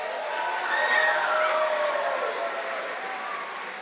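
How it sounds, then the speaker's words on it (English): Auditorium audience applauding during a school facial-expression competition, a steady mid-distance wash of clapping with scattered whoops and cheering voices rising over it. "Can we have a round of applause for part 1's facial expressions?"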